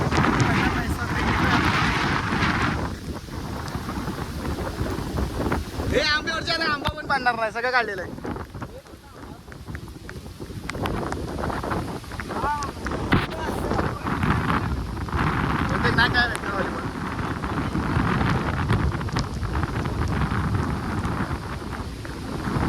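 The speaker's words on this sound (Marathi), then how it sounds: "कोकणातील पहिला पाऊस." First monsoon rain and wind in a Konkan mango orchard: a steady, close rush of wind-driven rain and gusts runs throughout, with people talking over it most of the time.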